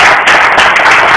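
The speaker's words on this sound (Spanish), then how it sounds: "me gustaría que diera un aplauso" Audience applause at a talk, a short burst of dense, loud clapping.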